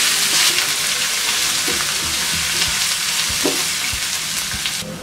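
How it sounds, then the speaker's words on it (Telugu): Ginger garlic paste sizzling in a hot pan for an egg masala curry, a steady loud frying hiss with occasional stirring scrapes throughout, no voices. "ఈ అల్లం వెల్లుల్లి పేస్ట్ని పచ్చి వాసన పోయే వరకు ఫ్రై చేసుకోవాలి."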